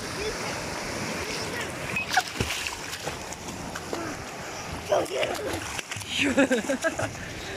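Sea waves wash and splash in a steady broadband rush, with a few sharper splatters near the end and occasional voices nearby.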